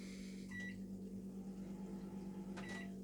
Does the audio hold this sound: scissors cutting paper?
no